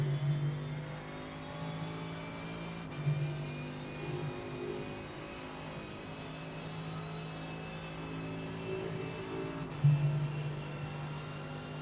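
Simulated GT race car engines in iRacing's VRS GT Sprint at Watkins Glen pull out of the pits with a steady, close droning whine. The sustained tone holds throughout, broken by two brief bumps, and no one speaks.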